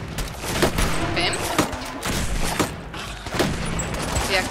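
Repeated heavy gunfire bursts from the Fallout 4 video game, rapid booming shots close and loud, with a voice speaking over parts of it.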